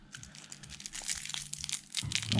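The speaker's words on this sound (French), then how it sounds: "ce petit plastique qui colle" Sticky thin plastic wrapping being peeled and crinkled off a trading card deck, close crackling and rustling that grows louder toward the end.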